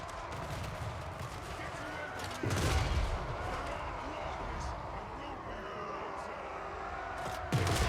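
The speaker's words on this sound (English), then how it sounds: "Let's just revel in this glorious firing line for a bit." Volley gunfire from a firing line in Total War Warhammer 3, a dense crackle of musket shots under a steady battle din, with louder bursts near the start and end.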